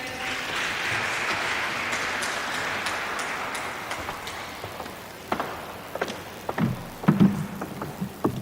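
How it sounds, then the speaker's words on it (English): A crowd claps in a dense burst of applause that gradually thins out into scattered individual claps. "Please, let's clap hands for them."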